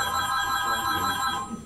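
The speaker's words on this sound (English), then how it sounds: "We'll let the phone ring." A telephone rings during an interview with a WWII veteran, a sustained electronic ring tone holding steady for under two seconds, fairly clear and alone with no talk.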